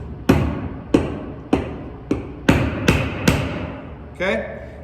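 A hammer taps a nail into a wood stud for a brace project, with six sharp, evenly spaced close blows about half a second apart, each ringing briefly, and a short voice at the end.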